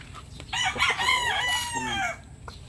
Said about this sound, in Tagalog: Yan ang spoiled na manok.